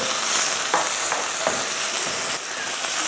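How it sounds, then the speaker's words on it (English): Pork sizzles hard in oil with a splash of soy sauce over medium-high heat for jjajangmyeon, continuous loud frying hiss broken by a few sharp spatula scrapes as it is stir-fried. "And stir fry the pork until they are brown."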